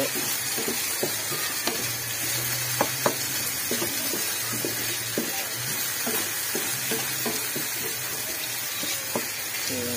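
A torta omelette fries and sizzles in a pan while it is stirred, a steady crackling hiss broken by light taps of the utensil, heard alone and close with no talk.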